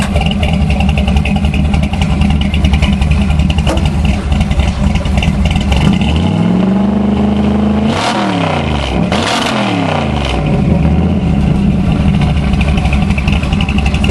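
A loud, lumpy cammed V8 in a 1956 Chevy 3100 pickup with headers and 3-inch exhaust idles roughly, then revs up and drops back twice in quick blips before settling into its choppy idle again.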